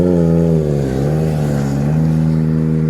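A Kawasaki ZX25R motorcycle fitted with a loud aftermarket exhaust revs hard and close, its high-pitched engine note held steady with a slight dip and rise, and no other sounds over it.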